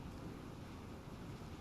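Steady wind rushing over an island coastline in the game Dear Esther, a constant low, broad roar with faint wave-like surges and no voices.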